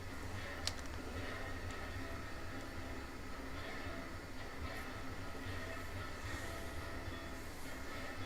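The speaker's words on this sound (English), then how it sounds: "Comrade, you taking this train to the lumber mill?" A train rolls along in the railroad game Railroads Online, a steady rumbling drone of wheels and cars with faint metallic squeals, continuous and fairly quiet throughout.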